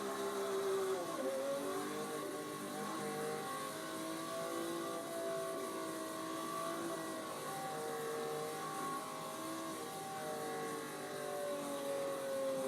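A car engine in a racing video game driven around turns, revving and easing off as speed shifts, with the engine tone sliding up and down in a steady, moderately quiet drone.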